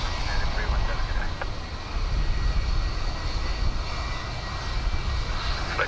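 A steady jet airliner engine roar at Dublin Airport on a windy day, loud and continuous, with wind rumble beneath and faint radio chatter in the background.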